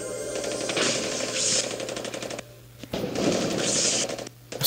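Rapid automatic gunfire in the mobile shooter Paladins Strike, with a steady hail of shots in bursts that pause briefly around the middle and again near the end, loud and continuous over a low hum.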